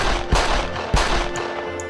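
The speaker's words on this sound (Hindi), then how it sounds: "एक मैकेनिज्म ऑन होता है, जिससे 3 पिस्तौल से एक साथ गोली चलती है" Two sharp pistol gunshot bangs ring out a moment apart over a steady humming background, followed by a couple of faint high pings; three pistols fired at once by a mechanism.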